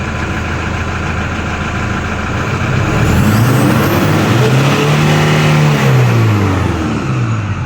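Engine of a 2011 Toyota Hilux with a low-power check-engine fault, idling steadily then revving up and back down in a loud, close sweep with no talk over it.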